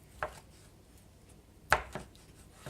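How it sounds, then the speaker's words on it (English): Large chef knife slicing deboned chicken thinly across the grain on a board, a few soft separate cutting knocks, two of them clearer, in a quiet kitchen. "I'm going to cut across it to do the stir fry because it makes it a little bit more tender, cutting across the grain"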